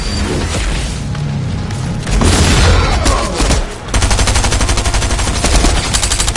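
A harpoon gun fired in a video game, heard among loud rapid shooting and booming impacts, with dense repeated bursts through most of the clip.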